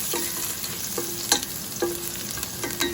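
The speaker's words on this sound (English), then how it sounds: "I like to brown my garlic because I like that nutty flavor in the garlic" Cloves of garlic browning in hot oil in a pan for a spicy chicken afritada stew, a steady close sizzle broken by a few spatula taps and scrapes at regular intervals, no one talking.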